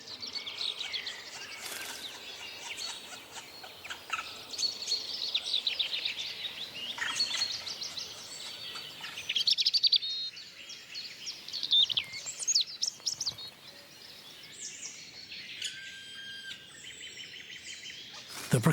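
Young black woodpeckers call in a forest with high, repeated chirping notes, moderately close, amid soft insect and ambient sounds and no voices.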